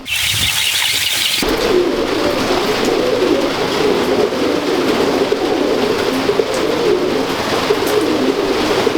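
Pigeons coo continuously in a close, loud chorus of overlapping low, rolling calls throughout, with no talking over them.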